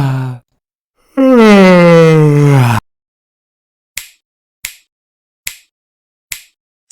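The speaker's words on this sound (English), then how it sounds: "Yawn." One person gives a long, drawn-out voiced yawn up close, followed by a short breath and then a string of faint, evenly spaced clicks.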